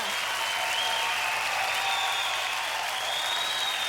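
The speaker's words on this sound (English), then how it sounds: "A big round of applause for Tanya." A television studio audience at an Australian Gladiators event gives a sustained, loud round of applause with scattered cheers, steady and dense throughout.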